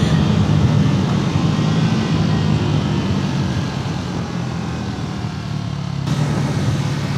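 Triumph Tracker 400 motorcycle engine accelerating on a ride, a loud, steady low drone with wind rush that holds throughout and shifts abruptly near the end, with no talking.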